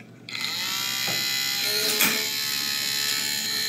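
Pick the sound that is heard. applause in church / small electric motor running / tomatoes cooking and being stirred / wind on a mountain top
small electric motor running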